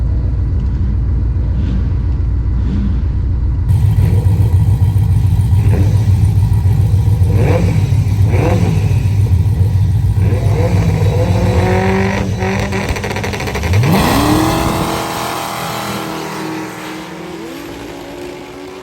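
A car launches from a 5000 RPM leave, its engine holding a loud, steady roar before rising in pitch as it accelerates hard, then easing off into a lower rumble near the end.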